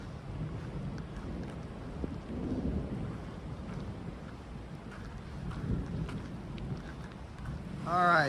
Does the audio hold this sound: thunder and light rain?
yes